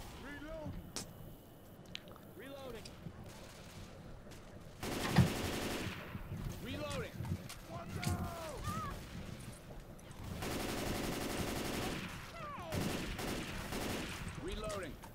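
Bursts of automatic gunfire from several weapons come from Left 4 Dead 2 co-op play. Rapid rattling runs and single shots blend together, with a loud sustained stretch near the end, as players talk excitedly over the shooting.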